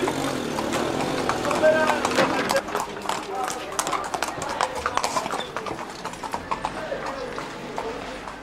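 Hooves of a horse-drawn carriage clip-clop in a quick, steady rhythm on a hard street in Marrakech, with a voice speaking over them and faint traffic in the background.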